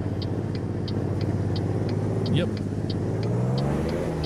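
Kenworth 521 truck engine in American Truck Simulator, a steady low diesel drone pulling in second gear with a regular ticking indicator above it, constant and fairly loud while someone speaks briefly over it.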